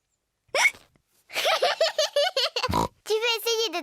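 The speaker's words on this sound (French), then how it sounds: "Le hoquet de Georges les empêche de jouer." A cartoon pig character from a children's animated show, young George, hiccups in short sharp bursts between stretches of lively character voices, with one abrupt low thump near the end.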